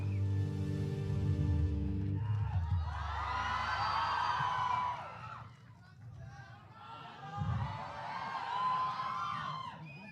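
At a film pre-release press event, the crowd roars with cheering and whoops in two big surges as Prithviraj Sukumaran is welcomed onstage, following a stretch of amplified music and voices.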